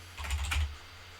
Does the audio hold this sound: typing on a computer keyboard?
yes